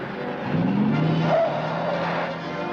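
A stolen police squad car, number 23, roars away with tires skidding and squealing, a loud continuous engine surge and screech lasting a few seconds, with no voices.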